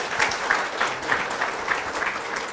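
Applause from a seated audience at a health talk show on cancer, steady clapping of moderate loudness with soft crowd texture, lasting a few seconds and heard alone.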